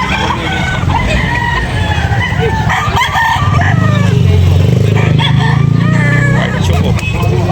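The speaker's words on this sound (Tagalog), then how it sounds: "Manok." Loud clucking from several chickens with roosters crowing over it, a crowded, noisy flock heard up close, with voices mixed in.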